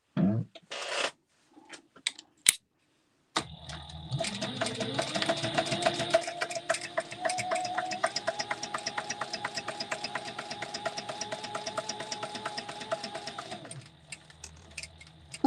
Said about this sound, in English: We'll sew this one for sure live.